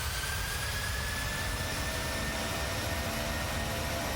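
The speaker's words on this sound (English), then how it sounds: "we can watch the takeoff roll from the outside" A PMDG 737-800 in Microsoft Flight Simulator rolls down the runway for takeoff, its jet engines producing a steady, loud broadband roar with a faint high whine throughout.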